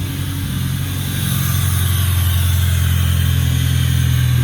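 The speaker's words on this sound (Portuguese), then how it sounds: "O ronco esportivo é porque o escapamento tá furado mesmo." Fiat Palio engine running just after starting, a loud, steady, rumbling drone through a holed exhaust that grows slightly stronger and holds through the whole stretch, close and alone.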